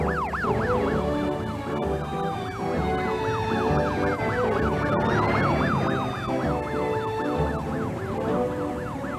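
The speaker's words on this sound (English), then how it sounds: "The sirens say help's on the way." Several emergency vehicle sirens wail together in a cartoon fire-truck story, loud rising and falling tones overlapping steadily over rumbling engines, with no talk.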